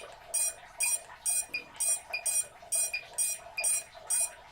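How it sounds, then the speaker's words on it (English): A Pavo 25 drone that won't shut off emits a repeating electronic beep, about eight short, bright tones in a steady rhythm, close and clear with no talking. "But the beep doesn't shut off."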